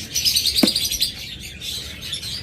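Caged breeding birds offered for sale chirp and tweet in quick, bright bursts, with one sharp call standing out close by against a busy background of twittering.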